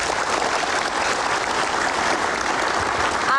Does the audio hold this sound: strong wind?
no